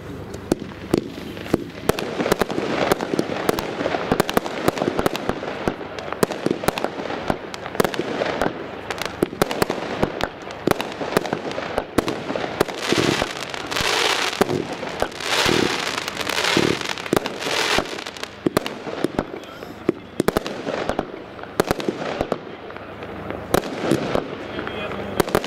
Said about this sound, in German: eine Kombination aus Bouquet-Abschüssen und römischen Lichtern